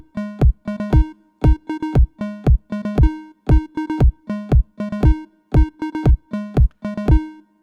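A synth square-wave line plays in a repeating rhythmic pattern over a punchy kick drum, the clean, loud pulses evenly spaced with short gaps, and no voices.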